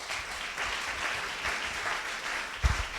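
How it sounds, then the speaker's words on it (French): A church congregation applauds in a steady spread of clapping, moderately distant, with a few sharper claps near the end. "Que tout le monde acclame le nom du Seigneur."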